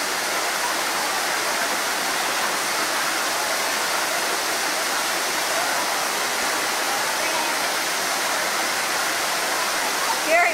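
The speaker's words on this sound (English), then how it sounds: "But first I'm going to those waterfalls." Waterfalls and a babbling brook rush steadily and loudly at Walt Disney World at Christmas, a continuous broadband roar of water that holds even throughout, with no talk.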